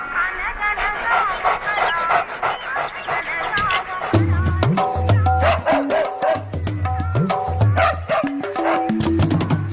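A dog barks and yips in short bursts, up close, while other sounds and voices continue around it.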